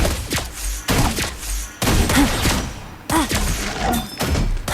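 Several sharp gunshots crack in quick bursts, each with a short ringing tail, loud and close amid game-like effects and faint voices, in the video game Mobile Legends: Bang Bang.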